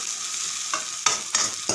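Onions with ginger-garlic paste frying in a pan, stirred by a spoon in a few distinct scrapes over a steady close sizzle, no talking.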